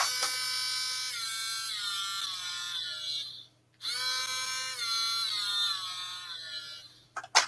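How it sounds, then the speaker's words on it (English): A small USB-rechargeable Dremel rotary tool whirs close up with a high, thin buzzing whine, stopping briefly in the middle and then running again before a couple of clicks at the end. "I bought myself a little Dremel."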